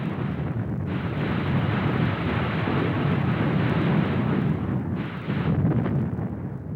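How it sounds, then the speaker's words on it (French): Continuous heavy rumbling booms roll on without pause, a dense, loud low roar with brief dips, from a bombardment by over 3000 guns before a night assault across the Rhine. "un formidable bombardement exécuté par plus de 3000 canons"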